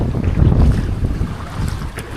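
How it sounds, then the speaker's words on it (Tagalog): Strong sea wind buffets a moored fishing boat, a loud continuous roar and rumble of gusts against the microphone with wave wash beneath, close and unbroken, with no voices. "Grabe, kasang hangin."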